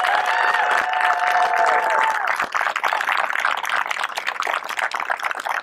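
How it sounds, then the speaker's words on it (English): A crowd claps for volunteers at a community clean-up event, giving dense steady applause that thins out toward the end, with some faint voices mixed in. "So let's give a big round of applause."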